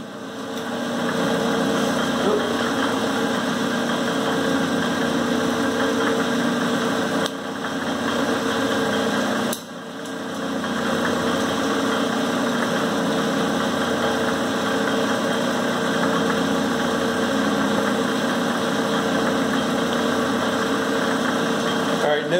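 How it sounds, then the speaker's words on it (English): A Clausing variable speed lathe running on three-phase power gives a steady mechanical hum and whir that holds evenly throughout, with a brief dip partway through. "Let me turn on the lathe here,"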